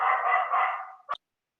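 Dog barking in the distance as a single drawn-out bark-like yelp trailing off into a sharp short yap, then silence.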